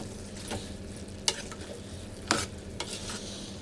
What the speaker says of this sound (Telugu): మనం ముందుగానే కోసి పెట్టుకున్న మామిడికాయ ముక్కలు వేసుకొని కొంచెం అటు ఇటు తిప్పేసి